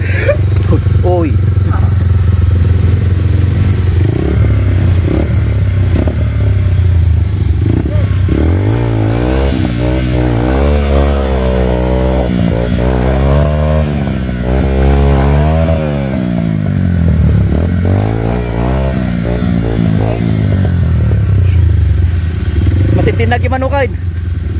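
A trail motorcycle climbs uphill, its engine loud and close, revving up and down in repeated sweeping surges while voices talk over it.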